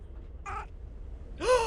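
A pet cat gives two brief meows, a short one and then a louder, rising one, against a quiet background.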